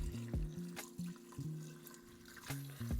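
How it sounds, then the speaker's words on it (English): Water runs from a tap and pours over chicken feet in a pressure cooker, a continuous close splashing rush with clanking of the pot and no talking. "you want to cover your chicken feet with water."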